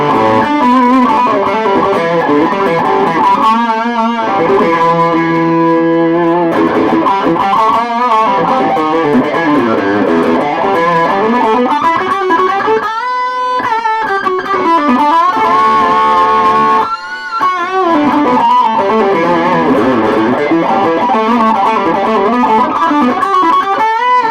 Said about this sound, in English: It seems to like a bit of the distortion.